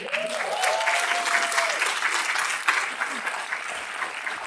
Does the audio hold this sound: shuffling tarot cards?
no